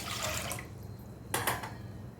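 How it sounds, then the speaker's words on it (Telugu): A glass of water is poured into a pot for cooking broken rice, making two short splashing bursts close by with a quiet pause between, and no one speaking. "రెండు గ్లాసులు వాటర్ వేసుకో."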